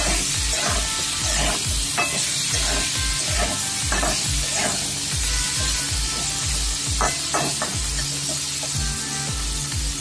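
Potatoes fry in hot oil with a loud, steady sizzle, broken by repeated scraping thumps of stirring in the pan at an irregular rhythm, close and continuous.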